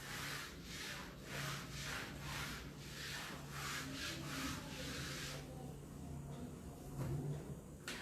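Board erasing during a math logic lecture on truth tables: steady, rhythmic rubbing strokes repeated for several seconds at moderate distance, then easing off near the end, with no talk over it.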